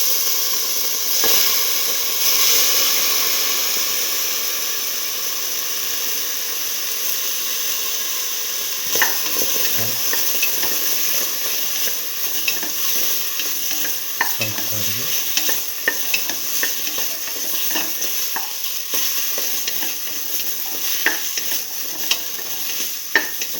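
Tomato and potato pieces fry in a hot pan for a potato stew, giving a steady loud sizzle and hiss throughout, broken by repeated scraping stirs and a few clatters, with no talking.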